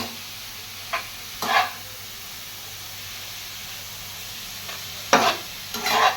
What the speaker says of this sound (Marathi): पाच ते सहा मिनटं आपण मोठ्या आचेवर हा हलवा असा चांगला परतून घेऊया